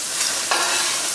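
Onions brown in a dry pan with no oil, a brief, dense, steady sizzle heard close up, with a soft stir or shift midway.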